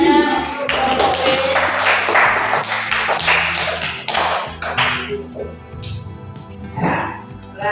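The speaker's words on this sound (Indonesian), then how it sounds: "Beri tepuk tangannya untuk kelompok B." A classroom group breaks into applause for group B, a dense burst of many hands clapping that thins out and fades toward the end, with a few voices briefly heard.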